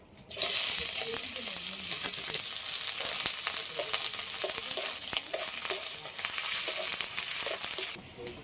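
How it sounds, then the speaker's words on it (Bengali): Chopped onion hits hot mustard oil in a kadai with a loud, steady sizzle, close up, carried on with scattered clicks of stirring throughout and no talk. "তেলটা গরম হয়ে গেছে ওর মধ্যে দিয়ে দিচ্ছি পেঁয়াজ কুচি"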